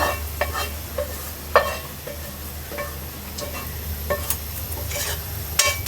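Fish with green chilies, garlic cloves and onion sizzle and fry in hot oil in a home kitchen, a steady crackling hiss broken by sharp pops and occasional stirring clicks.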